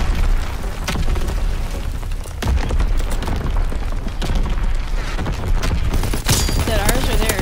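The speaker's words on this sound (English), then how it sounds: "Incoming enemy artillery. Get to cover." Enemy artillery and gunfire during a battle in the video game Call of Duty WWII: continuous loud booms and blasts with a heavy low rumble, mixed with rattling shots and brief talk.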